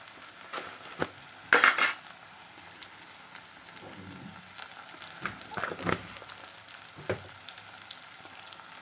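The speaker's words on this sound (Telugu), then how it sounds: "ఒక 2 నిమిషాలు ఉడకనిద్దాం." Gokarakaya vegetable curry cooking in a pan, with a soft sizzle underneath and sporadic clinks and scrapes of a utensil stirring against the metal, close and quiet with one sharper clatter near the start.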